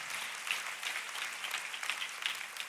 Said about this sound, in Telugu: దేవునికి ఒకసారి గట్టిగా చప్పట్లు కొడతాం.